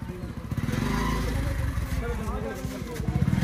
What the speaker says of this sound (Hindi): भाई ने टैलेंटेड तरीके से बाइक निकाली यहाँ से